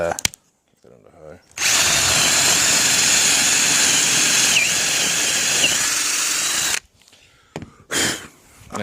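Power drill boring a starter hole through the inside of a cutout on a screen door panel before a jigsaw cut, one loud steady whine lasting about five seconds, with brief handling noises before and after.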